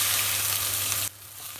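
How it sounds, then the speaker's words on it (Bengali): Onions frying in oil in a wok while cooking fish, a loud steady sizzle that drops sharply to a quieter hiss near the end. "কড়াইতে আর কিছুটা তেল দিয়ে দিব।"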